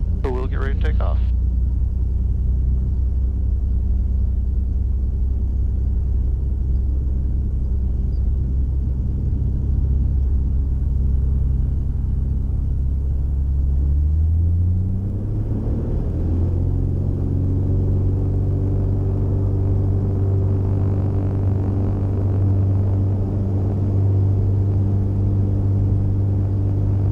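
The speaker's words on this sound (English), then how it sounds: "Alright, nobody's on final, haven't heard any traffic in the pattern, so we'll get ready to take off." A small experimental airplane takes off from a runway, its engine a loud, steady drone close by that rises in pitch about halfway through as power comes up, with a voice talking over it.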